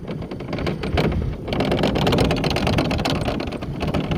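A PPV (People Powered Vehicle) e-bike rides at pedal-assist level 5, giving a steady broadband rush of motor whine, tyre and wind noise that swells slightly midway, with no talking.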